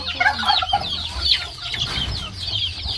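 Farm chickens cluck and chatter close by, with several overlapping bird calls and a steady low background rumble, no talking.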